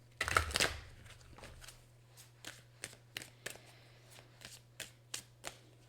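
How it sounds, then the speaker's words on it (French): Playing cards shuffled and handled during a tarot-style card reading: a loud riffle at the start, then a steady series of soft, close clicks and flicks as cards are laid down, over a low hum, with no talking. "Je vais prendre une carte ici."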